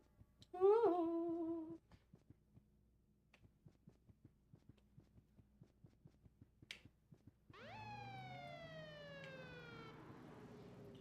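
A police car siren in the video game Look Outside, a rising electronic wail at first, then a steady thumping pulse, before a loud sweeping siren returns and holds to the end.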